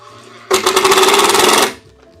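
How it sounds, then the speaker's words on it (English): A power tool drives a fastener into a wooden sign board in one loud, continuous buzzing burst of just over a second, preceded and followed by quiet handling. "And we'll drive some fasteners."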